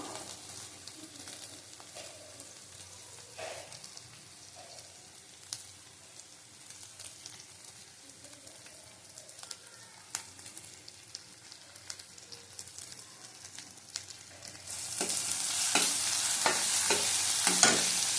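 Spiced chicken sautés in ghee in a pan with a soft, steady sizzle and occasional scraping stirs, close and quiet, growing to a louder, brighter frying hiss near the end.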